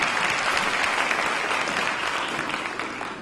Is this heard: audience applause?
yes